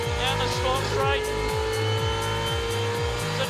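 A race car powers hard out of a hairpin turn, its loud engine climbing through a run of quick upshifts in a repeating sawtooth pattern, close and sustained for the whole moment.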